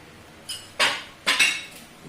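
A spoon stirs semolina into chana dal vada batter, giving three or four short, fairly loud scraping strokes against the bowl with brief pauses between them.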